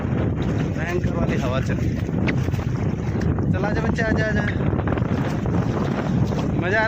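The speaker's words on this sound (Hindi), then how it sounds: "हवा भी देखो कितनी तेज चलती है ना, भयंकर वाली हवा चलती है" Strong, gusty wind roars steadily across a mountain river crossing in the hills, buffeting loudly and close throughout, while people talk beneath it.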